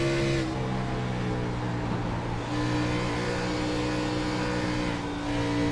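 A NASCAR Next-Gen race car engine held on throttle, a steady, continuous droning roar with a brief dip partway through, heard alone at moderate level.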